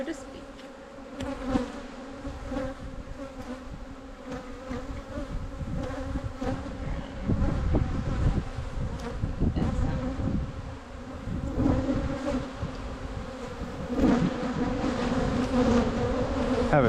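Honey bees buzzing steadily around an open hive during a bee yard inspection and split, a dense close swarm drone with individual bees passing near, and faint voices in the background.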